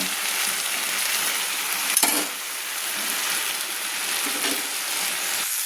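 Khosla greens cook with a fish head and spices in a hot pan, giving a steady, dense sizzle and crackle with occasional scrapes and clinks of stirring.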